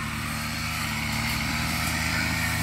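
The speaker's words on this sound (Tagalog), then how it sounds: "Nag-grass cutter siya." A grass cutter runs steadily close by at a resort garden with a papaya patch, its small engine giving a continuous buzzing drone with a low hum beneath, no pauses or talk.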